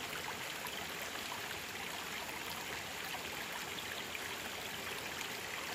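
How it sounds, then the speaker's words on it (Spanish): A strongly flowing river rushes steadily and close by, a continuous broadband roar of water with no pauses or talk. "Wow, qué sonido más hermoso. Miren, no es la gran río, pero pues está bonito. Viene con fuerza."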